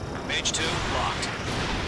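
Incoming gunfire strikes a fighter jet during an Ace Combat 7 dogfight, a dense rattle of rapid bursts and impacts over a steady roar of engine and wind, fairly loud throughout.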